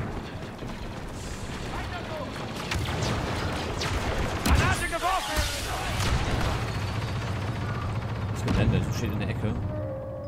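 Booming explosions and crackling gunfire in Star Wars Battlefront II rumble continuously, with a person talking over the din.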